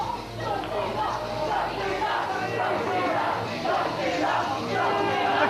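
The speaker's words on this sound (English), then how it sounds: "The cheers of the crowd ring in the ears of Alex Shane." A wrestling crowd cheering and shouting at a Frontier Wrestling Alliance show, a dense, steady roar of many voices filling the whole few seconds.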